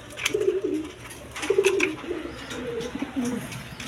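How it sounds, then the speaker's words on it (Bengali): A pair of large Danish Black Diamond pigeons coo in several close, throaty bursts, with brief pauses between calls and no talking. "দর্শকবৃন্দ এখানে এক পেয়ার ড্যানিশ আছে ডায়মন্ড দেখেন, ব্ল্যাক ডায়মন্ড, একদম বিগ সাইজের কবুতর"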